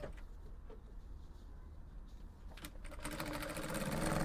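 A sewing machine stitching the facing edges of a shirt dress together, a fast steady mechanical whirring that starts softly and grows louder and denser, close by, with no talking.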